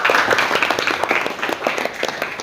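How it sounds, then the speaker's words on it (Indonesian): Students clap in a classroom, a short burst of close, uneven hand claps at moderate loudness. "Oke, tepuk tangan untuk Rojak"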